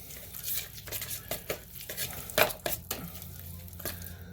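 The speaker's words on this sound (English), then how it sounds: "I'm just going to stir that up in there too." A spoon stirs mustard into a bowl of chicken salad, giving soft, repeated scraping and clinking strokes at close range, with a few sharper knocks against the bowl and no talking.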